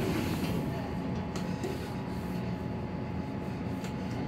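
An old elevator in an older hospital wing runs its motor with a continuous mechanical hum and faint rattling, steady and fairly close, with a few light clicks and no talk.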